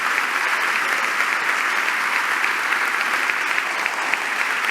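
Sustained audience applause fills a hall at an economics forum in Argentina, a dense, steady wash of many hands clapping at constant loudness with no talk over it.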